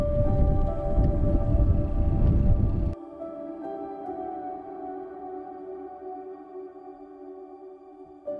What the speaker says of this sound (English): Heavy rain and thunderstorms would stay for multiple days